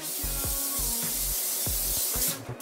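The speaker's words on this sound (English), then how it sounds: "I'm just going to spray the pan" Cooking spray hisses onto a pan in a few short bursts, close and fairly loud, with no talk.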